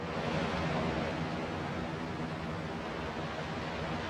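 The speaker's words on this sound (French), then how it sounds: "Seul bruit à Gorée, celui des vagues." Ocean waves on Gorée island at night, a steady broadband wash of surf with no distinct breaks, fairly loud and unbroken, no voices.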